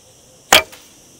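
An arrow is loosed from a bow using a shallow-hook Fu Hao thumb ring, a single sharp snap and whoosh of release with a faint secondary tick after, no talk.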